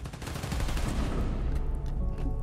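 Rapid, dense gunfire in the Spider-Man: Miles Morales video game on PS5, a steady loud barrage of overlapping shots running throughout with no talk.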